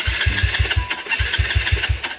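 A motorcycle that is hard to start cranks with rapid, loud, evenly spaced chugging pulses close by, with a short break midway before another run of cranking.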